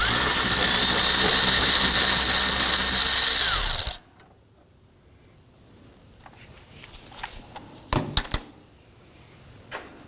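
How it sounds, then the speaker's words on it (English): A power tool spins off a caliper bracket bolt on the rear brake of a 2005-2009 Subaru Legacy during CV axle replacement: about four seconds of loud, steady whirring that cuts off abruptly, then quiet clinks and small metallic taps. "We're going to go ahead and put our power tool on it."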